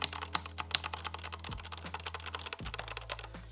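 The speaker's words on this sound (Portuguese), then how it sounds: "ele não tem aquele som totalmente mecânico de um teclado mecânico, queres ouvir?" Quick, irregular key presses on a non-mechanical gaming keyboard, soft muted clicks in a brisk burst of typing heard up close in a quiet room.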